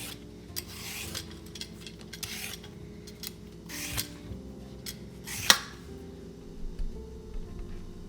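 Several short rasping scrapes of a peeler on a non-organic yam in a home kitchen come at an uneven pace, soft and close, with a sharper clink near the middle and a faint steady hum underneath. No one speaks.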